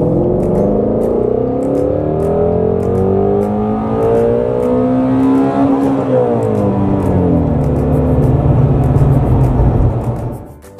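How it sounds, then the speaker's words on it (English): A car under a wide open throttle pull from about 1500 RPM, its engine note climbing loudly and steadily for about ten seconds, briefly dipping at a shift, then cutting off abruptly at the end. "once you have completed your wide open throttle pull"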